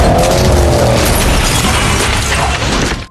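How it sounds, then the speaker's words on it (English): A police car crashing and flipping: loud, dense burst of impact noise with crunching metal and shattering, sustained for several seconds before cutting off abruptly. "Suddenly, with a violent crash, their police car flips through the air"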